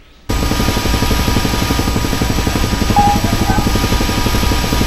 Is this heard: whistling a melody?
no